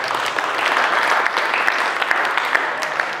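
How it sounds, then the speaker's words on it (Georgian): A crowd applauding at a fight weigh-in ceremony: dense, continuous clapping for about three seconds, with a few sharper claps standing out from the steady wash. "აპლოდისმენტები მეგობრებო"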